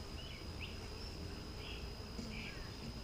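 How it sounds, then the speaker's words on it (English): Bees hum faintly inside an opened, queenless hive, a soft continuous buzz with a few brief higher whines from individual insects flying close. "A good amount of bees."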